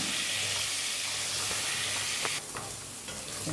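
Potol (pointed gourd) frying with spices in a pan, a loud continuous crackling sizzle with stirring scrapes, easing slightly toward the end, close up and with no talk.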